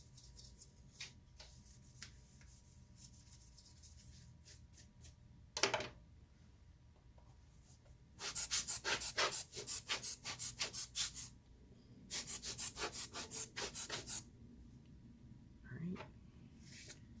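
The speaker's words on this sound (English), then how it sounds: "I'm going to clean the dust out of the trackpad area because it's pretty dusty" Brushing dust out of the trackpad area of a 15-inch late-2016 MacBook Pro A1707 makes bursts of quick, crisp scratchy strokes, close but fairly quiet, separated by pauses with small ticks and handling noises.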